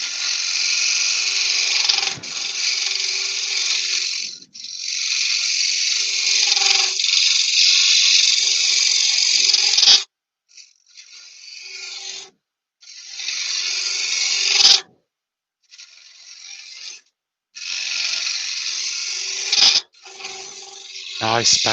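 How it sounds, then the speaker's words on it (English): Wood turning on a lathe with a carbide cutting tool, scooping out material in loud hissing, scraping bursts broken by short pauses. "I'm going to use this carbine and just see if I can scoop out a little bit."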